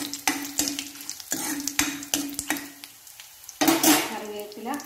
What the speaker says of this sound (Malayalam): ഇതിലേക്ക് വറ്റൽമുളക് ആഡ് ചെയ്യാം ഇളക്കി കൊടുക്കുക